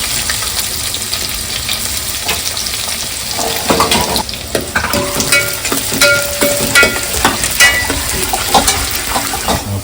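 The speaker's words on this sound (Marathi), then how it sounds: "आता आपण याच्यात कढीपत्ता टाकतोय फोडणीसाठी ना" Curry leaves and chopped onion crackle and sizzle in hot oil for a Marathi-style tempering, a steady loud frying hiss with sharper pops and stirring clatter building in the second half.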